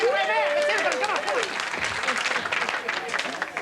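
An audience at a comedy show applauds loudly, dense clapping that continues throughout after a voice calls out over the start of it.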